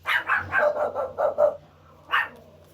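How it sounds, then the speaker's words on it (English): A dog barks in a quick run of about six sharp barks, fairly near but slightly muffled in a room, then falls quiet before one last bark. "You hear my dog back there getting booked with you."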